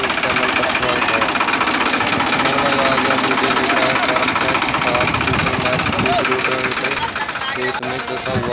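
A Farmtrac tractor engine runs loudly and continuously in a field where a tractor is stuck, giving a heavy knocking diesel rumble with voices mixed in.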